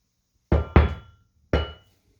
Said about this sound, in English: as I scrape something metal across the ground